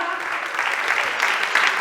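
An audience applauds in a steady, dense burst at an award ceremony, welcoming a singer being honoured with a memorial award.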